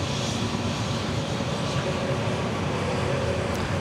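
Air New Zealand heavy jet taxiing off the runway at Sydney Airport, a steady, fairly loud engine roar and whine holding evenly throughout with no talk.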